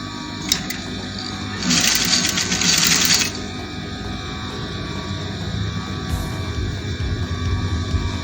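A sewing machine stitches African top fabric in a short, loud, rapid run of stitching, set against a steady background hum with a few faint clicks before and after.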